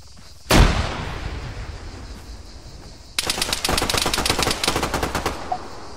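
Automatic rifle fire in ArmA 3 during a King of the Hill match: a single sharp loud shot, a lull, then a rapid sustained burst of close gunfire rattling on for several seconds.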